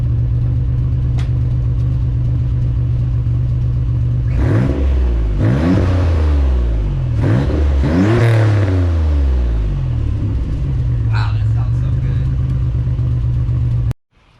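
A turbocharged Nissan 300ZX Z31 with a 3-inch catback exhaust idles loudly, then revs hard several times in a row, rising and falling, before settling back to a steady idle and cutting off abruptly.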